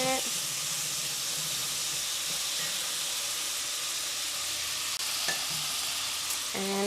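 Sofrito sizzling and being stirred in a frying pan, a steady loud frying hiss with faint spoon scrapes and occasional clinks, a voice talking briefly underneath.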